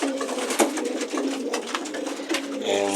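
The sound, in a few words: pigeons in an open loft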